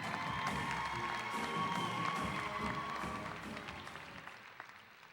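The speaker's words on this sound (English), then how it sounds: "let's have a final round of applause for our student athletes from Sachse High School" An audience at a school district signing day for student athletes breaks into dense applause mixed with cheering, a thick wash of many hands that holds steady, then fades out toward the end.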